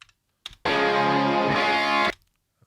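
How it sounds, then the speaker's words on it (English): Heavily distorted electric guitars in a rock mix, a thick sustained chord ringing loud for about a second and a half before cutting off, with brief clicks before it and silence after. "these are the distortion guitars."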